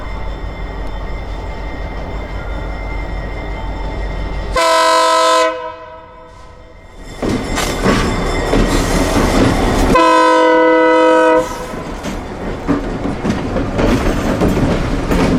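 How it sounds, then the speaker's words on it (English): A short line freight train carrying empty gondola cars on Florida's quiet Gulf coast rolls close by at about 10 mph with steady rumble and wheel clatter, its horn sounding loudly in two long blasts. "Train 59 appears, still cruising at 10 mph."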